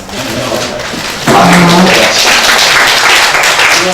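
Clapping at a Democratic Party floor leaders' morning meeting, a sudden burst that starts partway through and carries on fairly loud, with a voice speaking under it.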